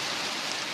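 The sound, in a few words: hail falling during a hailstorm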